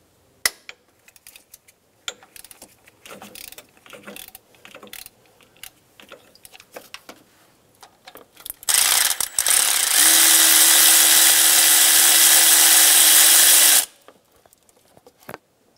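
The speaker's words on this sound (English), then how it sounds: "remove the bolt for the AC compressor" A ratchet wrench with a 12 millimeter socket takes out an AC compressor bolt on a 2000-2006 Toyota Tundra 4.7L V8, with scattered sharp clicks of the pawl, then a loud, sustained whirring rattle of rapid ratcheting before it stops.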